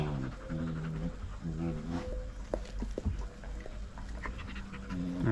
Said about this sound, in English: these two are just playing the young dogs.